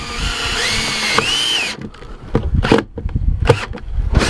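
A power drill drives a self-tapping screw into the metal flange of an Adventure Wagon wall and ceiling panel, with a steady whirring run and a rising pitch before it cuts off, then some close, uneven handling clatter.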